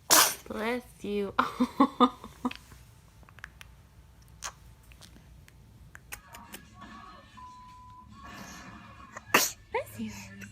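A baby sneezes several times in quick succession at the start, followed by a long stretch of quiet handling noises and a few more small sharp bursts, with adults talking near the end.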